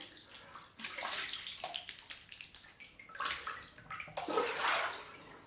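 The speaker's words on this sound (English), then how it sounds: "Time to just wash off." Water rinsing over a freshly shaved head after a wet shave, splashing and sloshing in uneven bursts, close and fairly quiet, with no voices.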